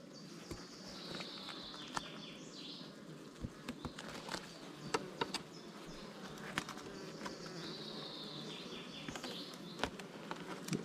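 Honeybees crawling on a hive frame of honey during queen introduction, a steady buzzing hum with small clicks and handling knocks, close up and without talk.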